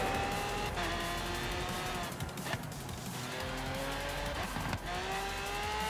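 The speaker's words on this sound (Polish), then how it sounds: "dodaję gaz na wyjściu z zakrętu" A Lamborghini Centenario in Forza Horizon 3 accelerates hard out of a corner with traction control off. Its loud engine note climbs steadily in pitch and runs continuously, with no voices over it.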